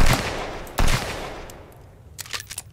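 Revolver fire in the video game Sunkenland: two loud, close gunshots less than a second apart, each with a booming tail, followed by quieter mechanical clicks.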